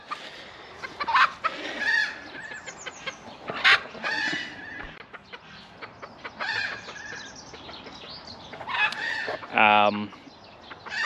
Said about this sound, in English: the birds are making lots of noise this morning